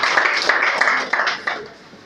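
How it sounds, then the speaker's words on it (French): An audience at a Cotonou meeting on women and cancer claps for the president, a brisk, loud spatter of applause that tapers off within two seconds. "Il faut qu'on applaudisse le président."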